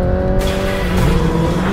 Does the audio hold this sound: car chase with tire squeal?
yes